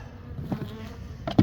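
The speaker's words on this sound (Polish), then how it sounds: "Więcej pszczoły i" Disturbed honeybees buzzing at an opened hive, a low steady drone that swells into a loud close burst near the end, with no talk.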